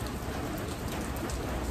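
Heavy rain pours down outdoors in a steady, dense roar of drops hitting surfaces, loud and continuous with no break or voices.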